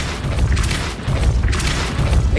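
A Depulso spell cast in the Hogwarts wizarding video game, a loud, dense booming blast that rolls on steadily with repeated surging impacts and no talk.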